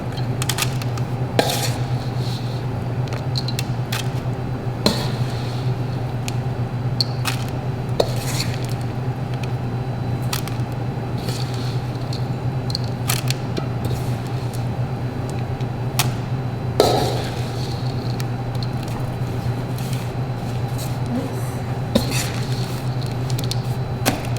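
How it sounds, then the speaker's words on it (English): Granola mixture spread and scooped with a spoon onto a greased baking sheet in a home kitchen, steady scraping and clinking of utensil on metal pan over a constant low hum. "we're gonna spread our mixture onto our greased baking sheet"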